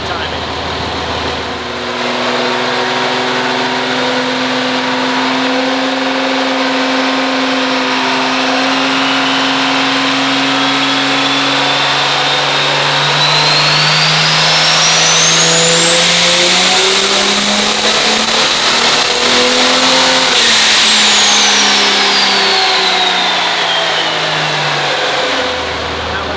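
High-horsepower car engine on a dyno, roughly 2353 hp, revving in a long pull that climbs steadily in pitch to a loud, screaming peak before dropping back, with a whine rising above the engine roar.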